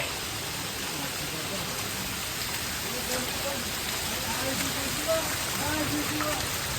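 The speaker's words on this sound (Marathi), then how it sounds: "बघा भाई पाणी वाहतोय" Waterfall water rushes and splashes in a steady, close hiss, with faint voices now and then underneath.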